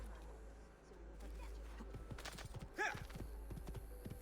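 Hooves clip-clopping in a quick rhythm, with a horse whinnying midway, against a low steady background hum, from a horse in an Assassin's Creed video game.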